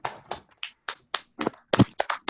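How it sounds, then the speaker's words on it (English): Scattered claps heard over a video call for award recipients, about a dozen separate sharp hand claps in an irregular rhythm, close and distinct, with silence between them and no talking. "give both of our award recipients a huge round of applause"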